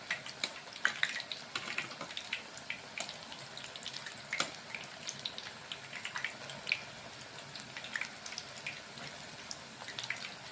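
Spinach bajji fritters sizzle in hot oil with a steady, bubbly crackle and scattered pops, close and continuous, with faint handling noises.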